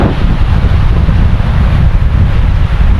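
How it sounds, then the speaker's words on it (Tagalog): Rough sea at the shore with strong wind buffeting the microphone, a loud, constant low roar of surf and gusts with no clear breaks. "Maalon na. Maalon!"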